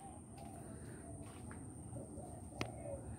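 Caged pigeon-like birds for sale coo in soft, repeated low calls, with a few faint chirps mixed in against a steady hum of background noise.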